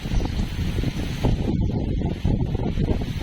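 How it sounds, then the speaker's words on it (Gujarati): Steady, loud wind buffets the microphone throughout in a village during a heavy rainstorm, a broad roaring rush with gusty surges and no voices. "પવન છે ને બદલી ગયો આ પવન આવે હવે"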